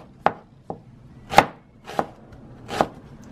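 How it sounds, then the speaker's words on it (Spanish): Knife chopping leek on a cutting board, five separate sharp thuds at an uneven pace, close and clear with no talk. "Mientras voy a cortar el poro."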